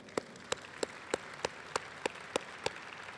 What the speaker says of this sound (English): Let's give them a round of applause because we know they made this happen today.